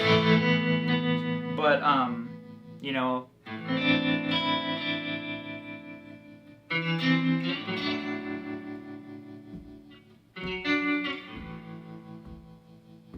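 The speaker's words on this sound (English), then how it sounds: "I always kind of viewed tremolo. That's like the Nashville sound" Electric guitar chords ring out loud and close, their volume pulsing in a steady, wavering tremolo with a spacious reverb tail.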